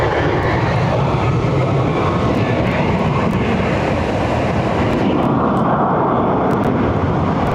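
An airliner departing Barcelona for Malta roars down the runway on its takeoff roll, a loud, continuous, broadband jet rumble that holds steady throughout with no talk over it.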